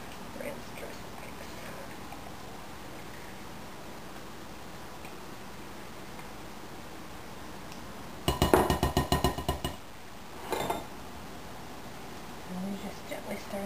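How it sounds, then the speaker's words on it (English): Ranch pasta salad with bacon bits and ranch dressing mix is stirred in a bowl. After a quiet stretch comes a quick burst of clinking and scraping, then one short clink and faint rustling. "And then you slowly stir that up a little bit, and add the rest of your ranch dressing mix."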